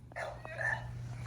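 A dog outdoors during a snowstorm gives a short, sharp bark near the start, then a quieter yelp, against a low background hum.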